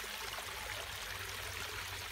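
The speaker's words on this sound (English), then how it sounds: "it's actually by quite a fast flowing stream" A fast-flowing stream rushes beside a brick building near Colwall, a steady close wash of water with broad continuous hiss and low gurgle, no voices.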